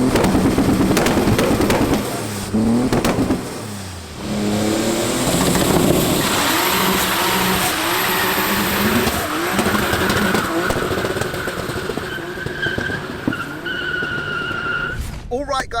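An 800bhp sidewinder turbo VW Golf Mk3 drives hard, its engine revving and surging loudly through repeated accelerations with turbo whistle and crackles, and voices talk under the roar.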